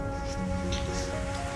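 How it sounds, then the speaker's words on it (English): Steady rain pours from a dark evening sky in a visual novel scene, a dense continuous hiss of drops on surfaces with no pauses and no voices. "rain started to fall from the dark sky"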